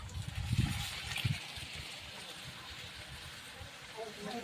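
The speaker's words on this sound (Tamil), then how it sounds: "1 லிட்டர் தயிர் சேர்க்கிறாரு" One litre of yogurt pours into a large pot of chicken biryani with a soft, low gush and splash, followed by faint wet sloshing under a quiet background hiss.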